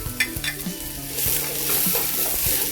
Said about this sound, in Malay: Tumis. Goreng hingga kekuningan.